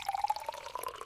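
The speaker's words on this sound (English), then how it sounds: "I pour the juice into my glass." Juice poured into a glass in a brief, faint, close pour whose tone rises slightly as it fills.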